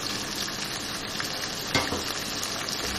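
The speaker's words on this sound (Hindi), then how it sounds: "और थोड़ा सा पानी डाल रही हूँ ताकि मसाले जलें।" Spices for mutton and potato salan frying in oil after a splash of water, an even sizzling hiss with a brief louder burst and stirring scrapes, fairly quiet and without speech.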